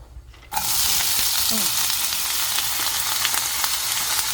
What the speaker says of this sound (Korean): 다음에 감자채를 넣습니다.